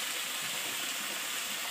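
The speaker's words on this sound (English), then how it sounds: "Waterfall is running." A backyard pool's waterfall feature runs steadily, a soft, even hiss of falling water heard from a short distance with no other sounds.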